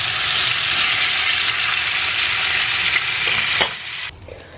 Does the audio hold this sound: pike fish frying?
yes